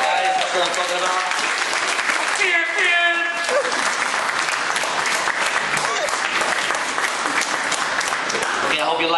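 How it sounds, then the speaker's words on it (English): Audience applause at a spoken word poetry event for the performers: steady, enthusiastic clapping mixed with a few whoops and voices calling out. "please give it up to all the performers. Guys, just random big applause if you liked it."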